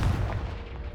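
Confringo blasting spell in the Hogwarts Legacy video game bursts out as a loud, booming explosion with a heavy low rumble that decays over about a second.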